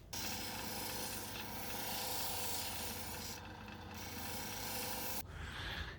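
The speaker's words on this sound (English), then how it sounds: "hop back onto the 600 grit wheel" A Holley Blue agate is ground on a 600 grit wheel, making a continuous rasping, rubbing grind with a steady motor hum under it and a brief break near the end.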